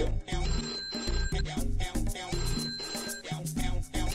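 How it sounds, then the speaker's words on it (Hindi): A telephone rings with a bright, repeating electronic ringtone in a Pakistani drama scene, sounding as loud, rhythmic pulses over a steady musical background, with no talking. "ओए पीनू का फोन आ गया।"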